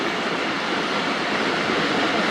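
A Jaffar Express train runs on a loop line, heard as a steady, loud, dense rumble of wheels and carriage noise with no voices.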